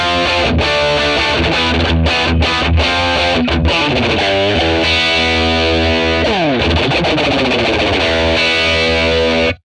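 Fender Telecaster electric guitar played through a 1957 Tweed Bassman amp model, loud driven chords and riffs with a continuous gritty distorted tone, strummed bursts and sustained notes with pitch bends, no voices.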